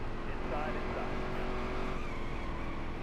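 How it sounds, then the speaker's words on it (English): A race car in NASCAR Heat 3 roars under braking as its tires squeal over a steady engine drone. A person talks over the noise. "On the brakes."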